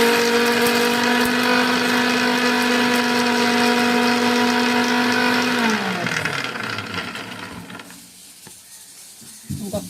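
A mixer grinder blends onions and small onions for tamarind chutney, a loud, close motor whine holding a steady pitch before the blades wind down and fade to near silence, with a faint clatter at the end.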